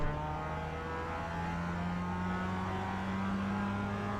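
Race car engine in the iRacing sim holding a steady, loud drone with rising harmonic tones as it pulls through the gears, continuous and close with no talk over it.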